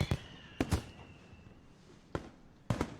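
Fireworks booming above a school at night in the visual novel game Katawa Shoujo: four sharp explosive bursts, some doubled, fairly loud against a quiet background, with a faint whistling trail between the first bursts.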